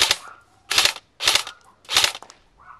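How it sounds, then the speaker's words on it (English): A KWA SR10 airsoft rifle fires four sharp, snappy shots, each a crisp crack spaced roughly half a second apart, close and clear with near silence between them. "Shooting at the hat."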